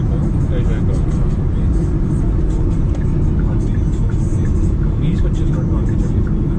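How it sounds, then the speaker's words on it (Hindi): Steady low engine drone and road rumble inside a Kia Seltos GT 1.4 GDI turbo with DCT cruising on an expressway, constant and fairly loud, with people talking over it. "एक्सप्रेस वे पे टेस्ट ड्राइव करा रहा हूँ"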